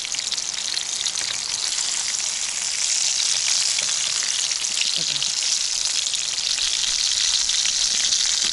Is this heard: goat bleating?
no